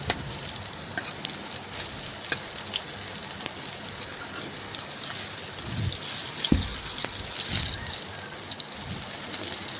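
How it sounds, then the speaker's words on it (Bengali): Vegetables for a Bengali shukto frying in hot oil give a dense, continuous sizzle and crackle throughout, with a few soft bumps and clinks from stirring and turning. "এইভাবে উল্টে পাল্টে লাল লাল করে একটু ভেজে তুলে নেব।"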